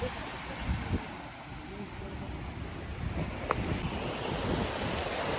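Rough ocean surf at a beach in Bucerías, Mexico, a continuous wash of breaking waves mixed with gusting wind buffeting the microphone, steady and fairly loud throughout.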